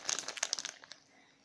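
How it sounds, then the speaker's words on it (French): Packaged gruyère cheese being unwrapped in a home kitchen while making pizza: a quick burst of close plastic crinkling and rustling that fades into near silence after about a second. "Donc on est en train de le déballer."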